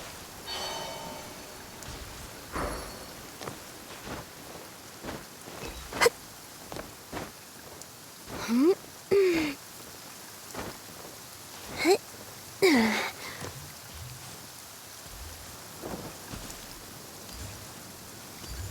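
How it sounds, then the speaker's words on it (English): Rain falls steadily as a soft, continuous hiss, with scattered sharper drips and taps and a few brief louder ringing tones rising above it. "listening to the rain cleanse the earth makes me feel safe"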